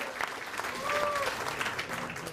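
Audience at a roast of Steve Kass breaks into applause, a steady wash of clapping sustained through the whole stretch, with voices and a brief tonal sound riding over the crowd.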